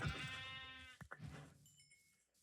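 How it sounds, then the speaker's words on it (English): A sheep in the video game Minecraft bleats once, a short wavering call followed by a couple of brief clicks and a faint tonal chime, quiet overall and with no talking. "I'm looking for a sheep."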